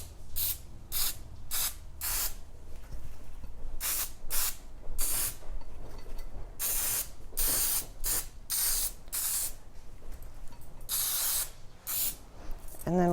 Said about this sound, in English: So I'm just spraying a little dollop in